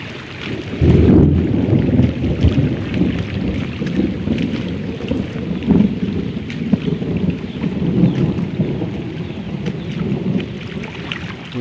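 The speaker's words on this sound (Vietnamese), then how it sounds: "Mưa to thật đấy mọi người." Heavy afternoon rain in Cao Phong with thunder, a dense steady downpour broken by low rumbling bursts. Wind buffets the microphone, and no voices are heard.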